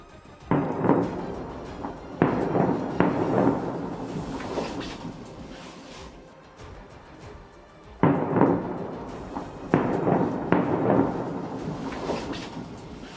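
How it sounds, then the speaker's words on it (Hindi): Several deep, booming blasts from missile strikes in Iran go off at intervals, each rumbling and fading slowly, heard from a distance. "थोड़ी देर बाद वहां एक और धमाका हुआ"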